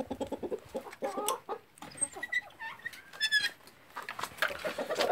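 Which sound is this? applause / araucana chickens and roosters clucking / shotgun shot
araucana chickens and roosters clucking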